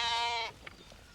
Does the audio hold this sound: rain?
no